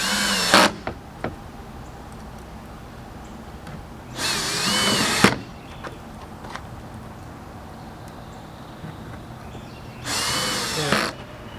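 A power drill drives 1.5-inch drywall screws into wood in three separate short, loud whirring bursts, each about a second long, with quiet workshop ambience between them.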